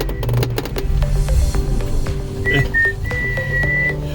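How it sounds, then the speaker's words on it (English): A person whistles the Jurassic Park theme with sustained notes over a loud, rumbling background of rushing motion while sliding down. "You can whistle me the Jurassic Park theme as we head down."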